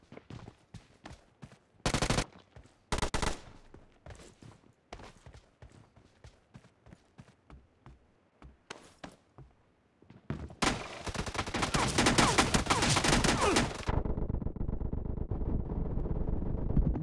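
Gunfire in the mobile battle royale game BGMI: scattered single shots and short bursts, then a long sustained barrage of rapid automatic fire, loud and close.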